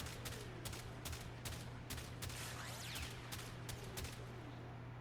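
Rapid bursts of Soma rifle gunfire in the Warframe video game, sharp repeated shots in quick succession over a steady low game hum, with no talk.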